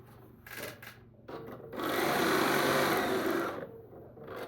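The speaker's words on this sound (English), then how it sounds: "we're going to go ahead and sew this" A sewing machine runs in short bursts, then settles into a longer steady whir of stitching before slowing and stopping.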